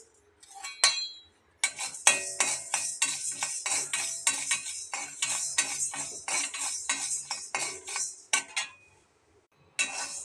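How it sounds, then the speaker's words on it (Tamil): Urad dal dry roasting in a kadai with no oil, a spatula scraping and clinking against the metal in steady, close stirring strokes, with brief pauses near the start and end. "இப்போ வந்து நம்ம உளுத்தம்பருப்பை இந்த கடாயில் போட்டு எண்ணெய் விடாமல் ட்ரை ரோஸ்ட்டாக நம்ம வறுத்து எடுத்துக்கலாம்"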